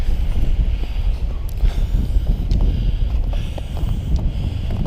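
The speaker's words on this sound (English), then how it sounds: "The wind takes your breath away." Strong, gusty wind with blowing sleet on a winter mountain hike to Charlies Bunion roars and buffets right against the microphone in a continuous low rumble, with no talking.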